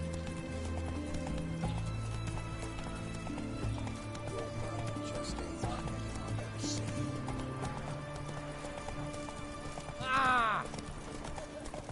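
Roach the horse gallops in The Witcher 3, with rhythmic hoofbeats under background music, a brief shout, and a loud whinny near the end.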